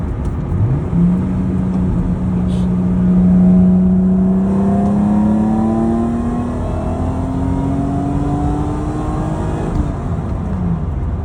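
A 1996 supercharged Acura NSX-T engine pulls hard on a highway, its rising whine and engine note climbing steadily over about ten seconds, loud and close from inside the car, with no talk.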